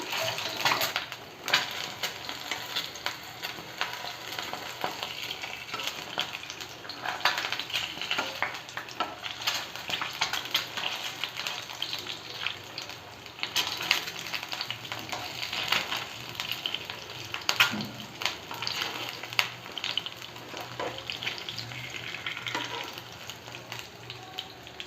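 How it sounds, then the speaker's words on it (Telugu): Boiled eggs frying in masala in a pan give a steady, close sizzle with faint crackles and occasional stirring scrapes throughout, with no talking. "ఇవి ఒక్క 1 మినిట్ కొంచెం ఫ్రై కాగానే మళ్ళీ మనం మలిపేసుకుందాం."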